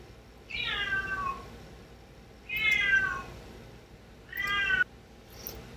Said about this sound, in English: That was Finn the cat.